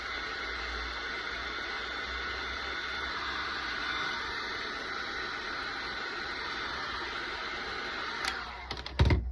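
A heat gun or hair dryer blows a steady, close, breathy roar while heating duct tape onto a flag for repair, ending with a few clicks and handling knocks.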